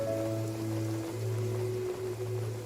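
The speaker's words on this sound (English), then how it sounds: "It's raining again?" Steady rain falling in the video game Genshin Impact, a continuous soft hiss with sustained tonal game music running underneath and no talking.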